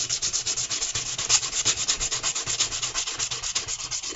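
Hand sanding a wooden wedge with 400-grit sandpaper, a steady close rasping scrub in even back-and-forth strokes, alone and unbroken throughout.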